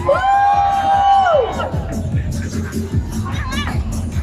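A live crowd at a Siam Street performance event cheers and shouts for the first pair of contestants, a loud whistle-like tone at the start giving way to a steady roar of voices with scattered whoops.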